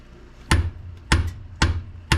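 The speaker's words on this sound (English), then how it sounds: "let me get a bigger hammer because this isn't working" A heavy hammer striking metal while pulling the engine from a Honda CRX, four loud, sharp blows spaced about half a second apart, each ringing briefly, close by with no talk.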